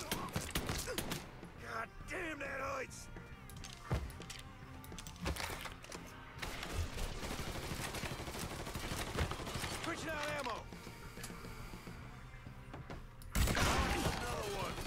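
Gunfire in the video game Mafia 3: repeated sharp shots and bursts crackle throughout, some in quick runs, with someone talking over parts of the action.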